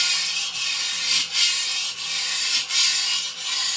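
An antique Dufresne and Co. chef knife is drawn slowly back and forth across a whetstone in steady, even strokes, with close, rough grinding and brief pauses at each turn. No one speaks.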